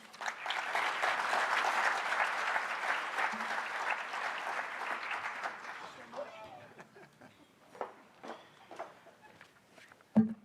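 Sustained applause from a conference audience at a floral distribution industry event, welcoming a new association president to the stage; loud and steady at first, then thinning to scattered claps and footsteps before fading.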